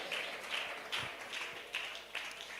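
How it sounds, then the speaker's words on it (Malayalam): A church congregation claps in praise during a sermon, several rhythmic bursts of applause repeating about every half second at moderate distance, with faint voices in the background. "അവനെ കാണുന്നവർ, ആത്മകണ്ടുകടി കാണുന്നവർ കൈയടിച്ച് മഹത്വം കൊടുത്താട്ടെ"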